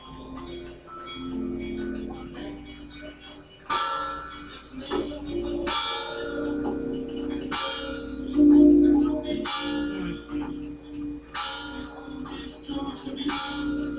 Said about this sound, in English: They let a little black kid ring the bell